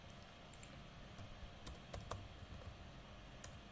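Quiet clicking of keys on a computer keyboard as a command is typed, with sparse, irregular keystrokes and a few small bursts over a faint background hiss.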